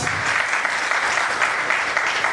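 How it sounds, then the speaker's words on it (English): Colleagues at a company rewards and recognition event give a round of applause, a constant, full roar of many clapping hands lasting a couple of seconds with no voices over it. "Round of applause."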